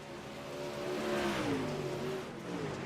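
Race cars at a Friday night race, engines droning and rising in pitch as they pass, swelling louder through the middle then easing off, with no voices.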